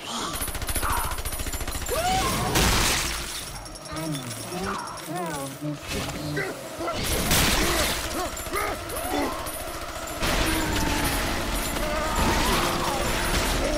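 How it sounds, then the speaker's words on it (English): A Big Daddy's drill attack in Bioshock 2 grinds and rattles in harsh mechanical bursts with clinks and impacts. Gruff voices talk over much of the fighting. "Feel the drill"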